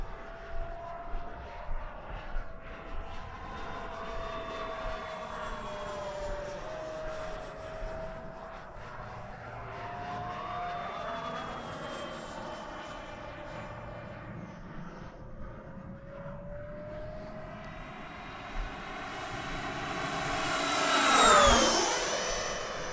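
An RC Avanti S v2 jet on a 6S battery flies past with a steady whining turbine-like roar that rises and falls in pitch as it passes, building to a loud close swoosh near the end.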